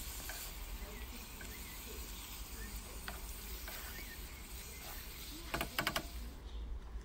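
Chopped chicken fries in butter in a cooking pot, a quiet steady sizzle with a few soft clicks and scrapes of stirring near the end.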